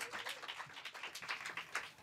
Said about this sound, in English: Keep applauding, guys, everybody.